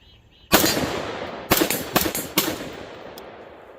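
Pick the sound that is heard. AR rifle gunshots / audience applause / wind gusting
AR rifle gunshots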